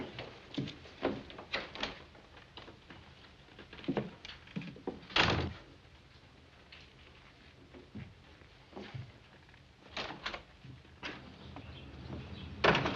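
Door in a western TV drama opening and closing, with a few sharp thumps and knocks standing out over quieter background rustle and movement, no one speaking.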